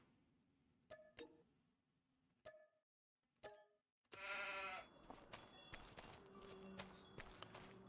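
A sheep bleats loudly in the Farming Simulator 25 video game on the Maypole Farm map. A single drawn-out bleat comes after scattered clicks and knocks, then fades into a steady farmyard background.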